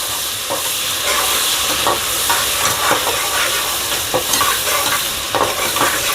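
Ginger garlic paste frying in a pan for chicken pulao, giving a steady, close sizzle with stirring scrapes throughout and no voices.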